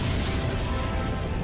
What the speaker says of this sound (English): It would be a massive explosion with chunks of molten material flying around the Earth ballistically